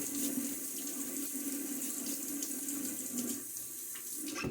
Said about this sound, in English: Get my face wet one more time here.